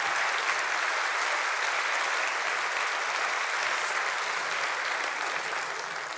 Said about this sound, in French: Mesdames, Messieurs, applaudissements réels pour Yolande Moreau.